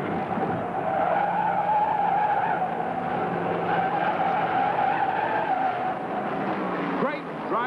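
Sustained, loud tire skidding and screeching from a stock car sliding out of control on the track at the 1971 Daytona 500, heard steadily throughout with engine roar, under a commentator's talk.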